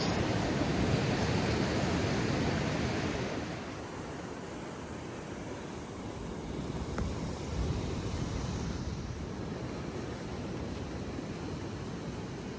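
Ocean waves washing onto Lone Ranch Beach, a steady broadband roar of surf that eases slightly and swells again, with no voices over it.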